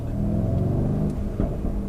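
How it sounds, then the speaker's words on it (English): A 2018 Mercedes-AMG GLC 63 S Coupe Edition 1 twin-turbo engine on overrun while driving, giving a loud, steady rumbling drone with a brief crackle near the end. "Oh, that little overrun."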